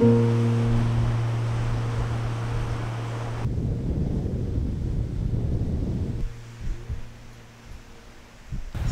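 Wind blows on a coast, with steady hum and low rumbling gusts that buffet the microphone before easing into a quieter rushing background.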